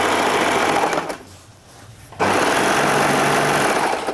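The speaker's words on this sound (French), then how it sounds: "on va venir les piquer à la machine ou à la surjeteuse" Sewing machine or serger stitching jersey dress pieces, a loud, fast whirring run that stops for about a second and then starts again at full speed, close up with no voices.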